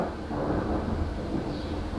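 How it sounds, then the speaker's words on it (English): Low rumble of distant thunder rolling steadily under a faint wash of rain-like noise, continuous and muffled for a couple of seconds. "did you hear that thunder?"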